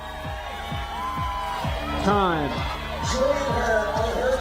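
A home crowd at the Vail 2013 IFSC Boulder World Cup finals cheers and shouts for climber Angie Payne, with rising whoops and rhythmic clapping heard beneath a commentator's voice.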